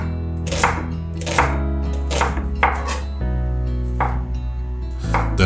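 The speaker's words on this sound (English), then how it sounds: "Begin by dicing the bell pepper and onion and slicing the sausage." A knife chops on a cutting board as bell pepper and onion are diced and sausage is sliced, steady close thunks in irregular bursts, with a low hum underneath.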